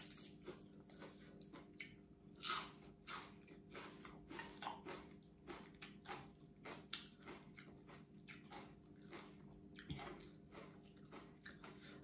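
Close, quiet mouth sounds of someone biting and chewing crunchy fresh gotu kola leaves, with repeated crisp crunches and wet mastication in a steady irregular rhythm over a low background hum.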